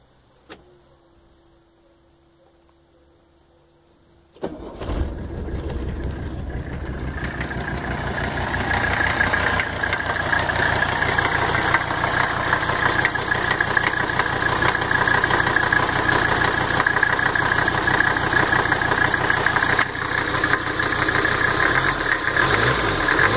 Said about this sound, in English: Cold start, 300 SD.